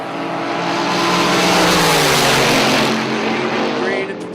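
Drag racing cars launch and roar down the strip at a March Meet event, a loud sustained blast of engine noise that swells and then eases as they pull away, with an announcer's voice partly under it.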